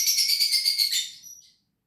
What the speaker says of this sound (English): One very noisy